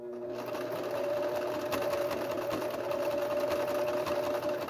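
A sewing machine runs continuously, stitching through fabric layers of a cloth face mask with a fast, even mechanical whir and rapid needle clatter, heard close and alone without talking.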